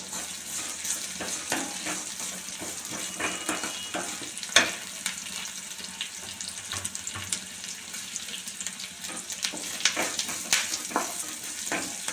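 Grated coconut and curry leaves sautéing with salt in a pan for coconut chutney, a continuous close sizzle broken by sharp stirring clicks and scrapes, no talk.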